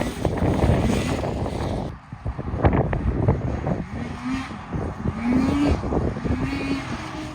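A Starfire 862cc stroker snowmobile engine runs outdoors in snow, a steady two-stroke drone under wind noise with brief revs and pitch rises across the span.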